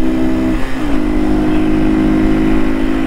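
A motorcycle engine drones steadily, its pitch sliding upward as it accelerates, loud and continuous throughout.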